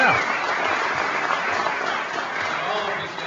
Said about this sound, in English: Let's give him a round of applause for organizing.